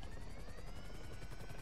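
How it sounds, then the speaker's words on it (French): Continuous thudding rotor chop of a helicopter in GTA Online, steady and fairly loud with a droning engine whine, no talk over it. "Où le deuxième hélico?"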